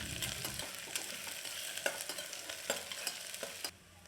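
Onion with ginger, garlic and green chili frying in a pan for a mutton green gravy, a soft steady sizzle broken by irregular scraping stir strokes, close and fairly quiet, no voices.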